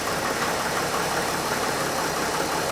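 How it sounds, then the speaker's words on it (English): Sprinter van engine idling steadily, a continuous even rumble with light knocking texture, close and alone. "We're gonna let it idle until it reaches operating temperature."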